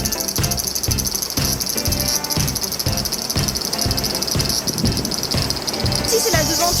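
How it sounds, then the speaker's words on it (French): Loud, dense cicada chorus right outside a hotel in Yokohama, Japan, a continuous buzzing drone pulsing in steady rhythmic waves throughout, with no voices over it. "on entend énormément le semi, la cigale"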